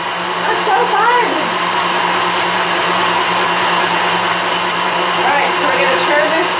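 A honey extractor spins frames during a first-year honey harvest, giving a loud, continuous close whirring drone with a steady hum and light rattling throughout.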